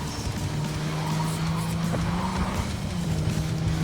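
Car driving and skidding in the video game Cyberpunk 2077, a steady engine drone with tyre noise running continuously throughout, fairly loud with no talk over it.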